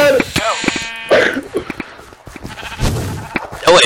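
Sheep bleating in Minecraft on a multiplayer server, short nasal bleats breaking in several times among chaotic game sound effects, with a voice talking over parts of it.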